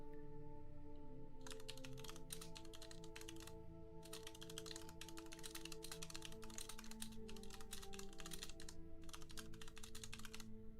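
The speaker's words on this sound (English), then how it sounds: "You can hear me typing, right?" Computer keyboard typing in a quiet room, a rapid run of soft key taps in bursts with brief pauses, faint and close, over a low steady musical tone in the background.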